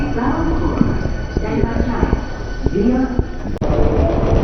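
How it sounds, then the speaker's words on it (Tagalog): A local train passes near Osaka Castle with a steady rumble and rattle of rail cars close by, and a busy murmur of people in the background. "Papansin nyo din dyan yung local train."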